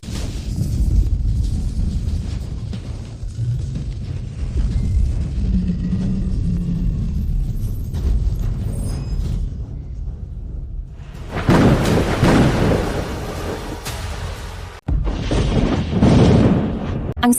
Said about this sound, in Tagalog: ito ang kidlat ng pagsubok